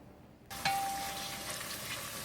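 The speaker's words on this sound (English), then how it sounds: "I've melted my butter in the pot, and I've been sauteing my onions for just a couple minutes" Small chopped onions sautéing in melted butter in a pot, a steady close sizzle that starts abruptly and continues evenly, with a brief high tone near the start.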